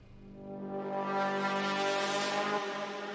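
A cinematic trailer braam synth, a low saw with sub oscillator, tube distortion and chorus, swells into a thick buzzing drone that holds loud and bright before easing off, alone.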